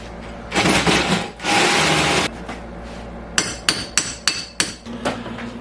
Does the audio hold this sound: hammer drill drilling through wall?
yes